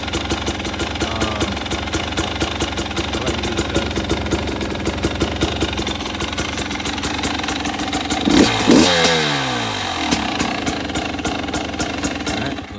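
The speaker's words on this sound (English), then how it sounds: "The stock muffler is a little bit quieter." A KTM 300 XC-W dirt bike with its stock muffler revs steadily, the two-stroke engine firing in a rapid rhythmic pulse, rising into a louder blip around the middle before settling back to idle-like revs.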